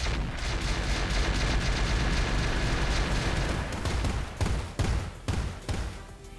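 Mortar barrages in the mech game Roguetech: a dense, continuous rumble of distant blasts gives way to several separate heavy booms near the end.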